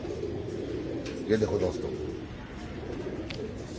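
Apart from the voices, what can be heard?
Chandarkhani pigeons cooing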